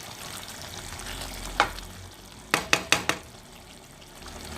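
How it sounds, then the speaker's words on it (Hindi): Capsicum and potatoes frying on low heat with a splash of water, giving a faint steady sizzle under a few sharp clinks of a spoon against the pan. "शिमला मिर्चें डालने के बाद आप तकरीबन 10 मिनट तक बस इसे हल्की आंच पे आप से भून लें"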